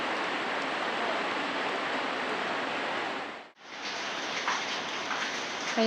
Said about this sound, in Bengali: দেখেন সকাল থেকে কিরকম বৃষ্টি হচ্ছে